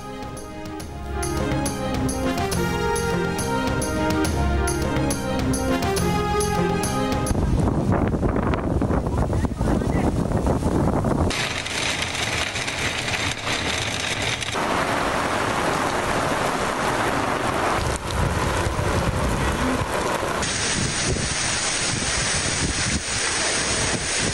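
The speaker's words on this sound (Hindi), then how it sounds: "रावलपिंडी और इस्लामाबाद में तेज़ हवाओं के साथ तूफानी बारिश" Stormy rain driven by strong winds lashing Rawalpindi and Islamabad after a heat wave, a loud, continuous broadband roar of rain and gusts that fills the whole stretch, with shifting intensity between cuts.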